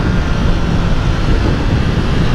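Triumph Street Triple R motorcycle engine roaring steadily under throttle, a loud, dense broadband drone with no breaks, close and alone.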